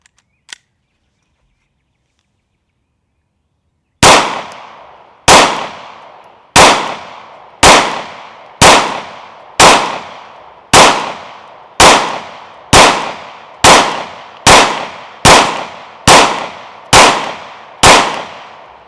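A Sig P320 pistol fires about fifteen sharp, loud shots at an even pace after a brief quiet pause, each crack ringing out and decaying before the next.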